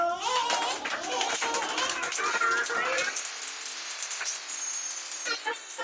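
Rhythmic hand clapping at a child's fifth birthday party, a series of claps mixed with children's voices and party chatter, loud and close in a busy room, fading to lighter background noise.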